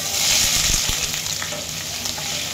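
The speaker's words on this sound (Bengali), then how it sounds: "পেঁয়াজটা একটু ভাজা ভাজা হতে দিই" Loud, close sizzling of chopped onions frying in a pan, a steady hiss with a few stirring scrapes and clicks.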